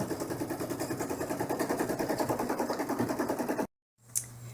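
An embroidery machine stitching an in-the-hoop dollhouse bag, a fast, even mechanical chatter of the needle running close and steady, then stopping abruptly.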